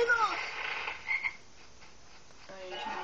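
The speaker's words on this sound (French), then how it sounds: "Il n'y a rien ici, à part la grenouille." A frog croaks in a Harry Potter video game, a few short croaks early on over a steady game ambience, fairly quiet and without talk.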